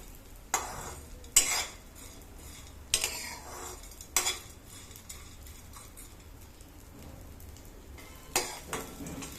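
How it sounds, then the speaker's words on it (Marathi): Edible gum (dink) puffing in hot ghee in a pan and stirred with a spoon, a soft continuous fry under a handful of sharp metallic scrapes spaced several seconds apart, close and quiet with no voices. "डिंक इथे मस्त असं फुलायला सुरुवात झाली आहे साबुदाण्यासारखा फुलतो तो हलवत राहायचा आणि तुपावर छान असा परतवून घ्यायचा"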